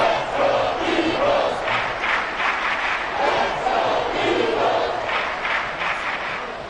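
Football stadium crowd roaring and cheering through a big play, a dense, sustained wash of many voices with surging swells, fairly loud and continuous.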